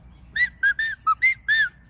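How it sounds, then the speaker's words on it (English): A person whistles outdoors in good weather, six short, clear, tuneful notes with brief gaps, near and fairly soft over a quiet low background hum. "It can just be a whistling,"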